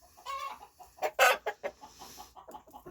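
Backyard chickens in winter clucking close by, a series of short, irregular clucks and throaty calls with a louder burst in the middle, alone with no talking.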